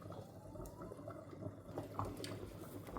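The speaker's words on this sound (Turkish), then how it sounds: "Çorbam kaynamaya başladı. Böyle bir iki tık daha kaynatıyorum." Yogurt soup simmering in a pot gives off a soft, steady bubbling with small pops and light liquid burbles, close and continuous at a low level throughout.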